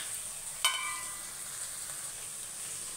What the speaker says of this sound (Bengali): এটা আমার ভাজা হয়ে গেছে, টমেটো পেঁয়াজ সব নরম হয়ে গেছে।